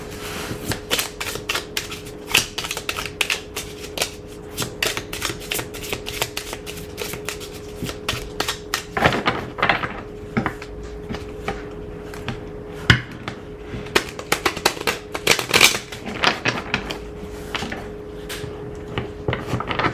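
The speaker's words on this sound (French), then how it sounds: "alors mélangeons" Tarot-style cards being shuffled by hand during a card reading, a quick crisp patter of riffling and tapping clicks that runs steadily, sometimes in denser bursts.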